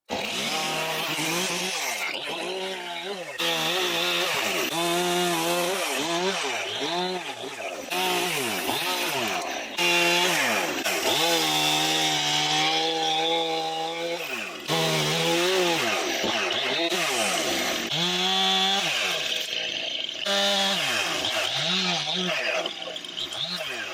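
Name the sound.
chopping up a fallen tree, likely with a chainsaw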